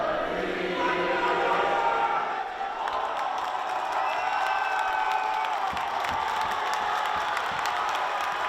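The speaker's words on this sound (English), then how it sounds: "It is a capacity crowd here in the gymnasium" A capacity crowd fills a high school gymnasium before a basketball tournament game, a dense, continuous roar of chatter, cheering and whoops echoing through the hall.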